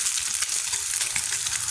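Food frying in oil in a kadai gives a steady, close crackling sizzle with dense bubbling spatter that runs unbroken throughout, with no voices.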